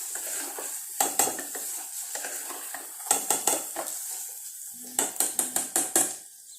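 Spices for tomato rasam sauté in a pan under a soft, steady sizzle, with bursts of sharp, close metallic spoon scrapes and taps in clusters. No one speaks.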